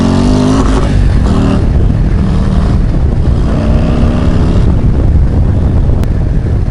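A Harley-Davidson Road Glide ST bagger with a Screamin' Eagle 135 engine rumbles loudly while riding, a deep steady engine drone with gear and throttle shifts, close and continuous throughout.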